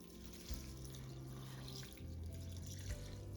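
Water from a pitcher pours steadily over rice being rinsed for Uzbek pilaf, a quiet, continuous splashing trickle with small shifts in tone and no voices.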